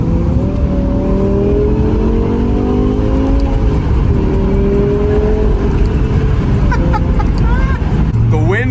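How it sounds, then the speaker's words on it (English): BMW M5 E60 V10 engine with an axle-back exhaust, revving loud and close with a steady high-pitched scream that rises and shifts over several seconds, with a few brief voices in the background. "That V10 scream with our axle back exhaust is my favorite thing about this car"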